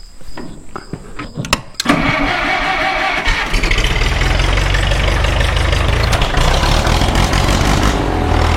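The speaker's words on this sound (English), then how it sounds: "I'm going to ted the hay now, and then maybe I'll ted it again in the morning" A tractor drives a hay tedder: after a few brief knocks, a loud, steady, close engine drone with mechanical rattle carries on without a break and with no talk.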